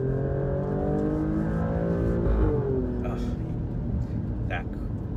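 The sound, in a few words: Alfa Romeo Stelvio Quadrifoglio SUV engine accelerating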